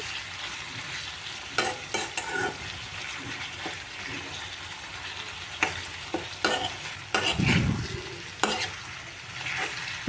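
A spoon scrapes and stirs bottle gourd curry in a pan, sharp clanks breaking through a soft steady sizzle of cooking, with no voices.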